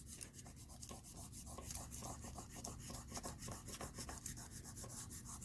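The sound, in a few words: burnishing polymer clay pendant along the lines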